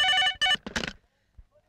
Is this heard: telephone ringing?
yes